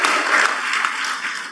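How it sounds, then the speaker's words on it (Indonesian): Audience applause at a Sustainability Day 2022 corporate event in Indonesia, a steady dense wash of clapping from a crowd, loud and continuous with no voices over it. "Tepuk tangan untuk kita semua."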